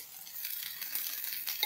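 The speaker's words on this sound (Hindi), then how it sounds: "अब इसमें जाएगा वो ये जो बैटर मैंने बनाया है, ये डालूंगी यहाँ।" Besan (gram flour) batter is poured into a pan with fenugreek leaves over a low gas flame and stirred, giving a faint, hissing sizzle with soft scraping against the pan.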